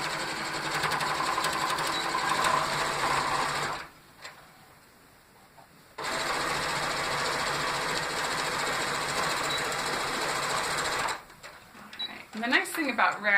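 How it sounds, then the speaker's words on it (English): Close-up sewing machine runs in two long bursts as rag quilt four-patch blocks are stitched together, pausing briefly in between and ending with handling noises and a brief voice. "I'm going to go ahead and sew these 2 4 patches together"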